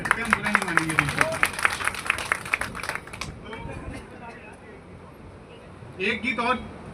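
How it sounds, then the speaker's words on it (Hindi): A street-play audience claps steadily and rhythmically for a few seconds alongside voices, then the clapping stops and quieter speech and murmuring follow. "अगर पसंद आया तो आप ताली बजा सकते हैं"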